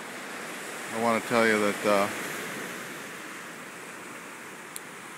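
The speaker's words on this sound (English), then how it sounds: "as we listen to the beautiful sounds of the surf" Ocean surf at Kalapana gives a constant, soft, rushing hiss in the background, briefly under someone speaking a few words before the surf continues alone.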